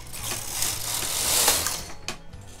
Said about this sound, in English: Okay, now on our last one, I'm going to knit all the way across again.